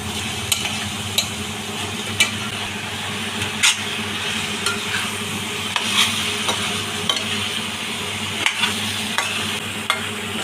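Sliced eggplant frying in a pan with salt, a dense continuous sizzle broken by regular scrapes and taps of a spoon stirring against the metal.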